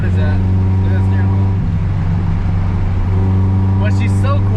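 A K-swapped Honda Civic idling quietly, a steady low engine hum with strong even tones throughout, with someone talking over it near the start and end.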